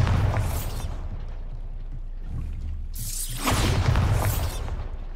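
Bombarda spell explosions boom in Hogwarts Legacy: a loud blast with a crumbling rush, then a second, heavier burst a few seconds later that rumbles on.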